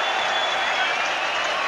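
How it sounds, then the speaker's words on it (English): Stadium crowd roaring and applauding after the Springboks win their first Rugby World Cup final, a dense, continuous wall of cheers and clapping with commentary heard over the top. "And Nelson Mandela is cheering along with the whole of the stadium."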